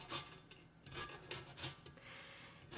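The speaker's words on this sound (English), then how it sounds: "So I just get the green part, lightly zest." A lime's green peel is lightly rasped against a fine zester in short, repeated strokes, a soft scratchy rubbing that comes in bursts with brief pauses between.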